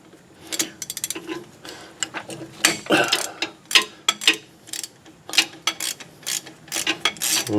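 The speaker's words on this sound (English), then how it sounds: "So we're gonna get a ratchet" Ratchet loosening bolts on the rear brakes of a 2002 Chevrolet Silverado 2500HD pickup, giving repeated close clicking bursts in an irregular rhythm with a few louder metallic clanks, and no talking.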